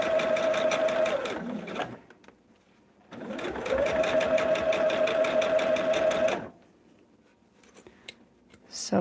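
A home sewing machine stitches a table runner in two long, steady motor runs, the second longer, separated by a brief pause with faint handling noise and small clicks afterward.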